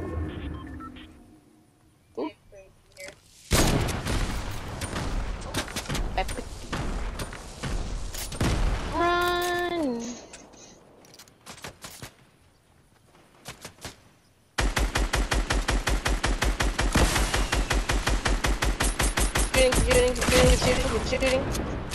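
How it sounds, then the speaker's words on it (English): Fortnite weapon fire comes in bursts with quieter gaps and a rising electronic tone between them, then a long rapid string of evenly spaced shots fills the last several seconds; a voice speaks at times. "Shooting. Didn't mean to do that, but okay."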